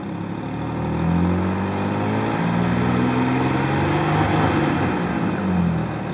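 A pickup truck engine's steady drone with a gentle rise in pitch as it revs up after a fan clutch replacement, low and continuous with a slight roar, no fan noise, no voices.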